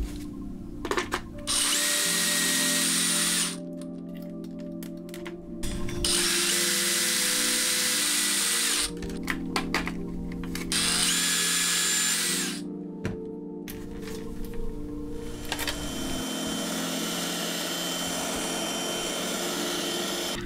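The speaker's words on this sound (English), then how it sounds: "So here I'm just drilling and testing the size every now and then" A step drill bores holes into a small telephone enclosure in several long, loud whining bursts separated by short pauses, the pitch shifting as the bit cuts through the material.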